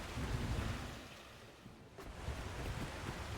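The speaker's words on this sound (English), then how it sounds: "it definitely seems to be raining all the time while I'm here" Rain falls in the video game The Last Caretaker, a steady broadband wash of downpour with low rumbling wind, moderately loud and continuous with no voices.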